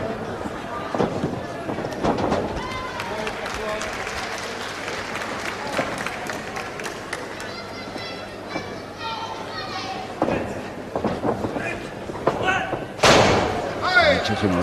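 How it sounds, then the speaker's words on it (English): Wrestlers in a Fire Brigade bout throw each other onto the mat, giving several heavy thuds with one loud slam near the end, over steady crowd noise and applause while a commentator talks. "He took him right over for that throw all the way."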